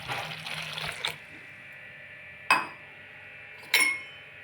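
Moringa leaf soup pours between tumblers to cool, a soft liquid stream at first, then sharp metallic clinks of the tumblers knocking together, with quiet gaps between them.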